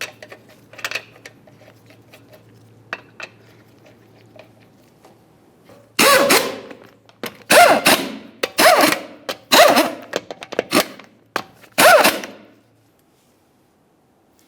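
Lug nuts, 22mm, spun onto a 2005-2010 Dodge Dakota front wheel, heard as a run of five loud bursts of rapid ratcheting metal clatter, each a second or so long, after a quieter start.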